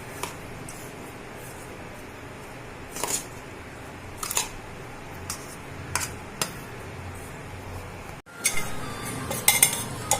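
Black rice (karuppu kavuni) laddu mixture with sugar being stirred in a pan, a spoon scraping and clinking against the metal in scattered strokes, close by, with a busier burst of scraping near the end.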